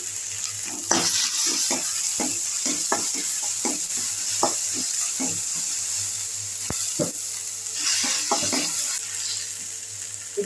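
Onions sautéing with salt and ginger-garlic paste in a pan, a steady close sizzle running throughout with repeated stirring scrapes and clicks on top.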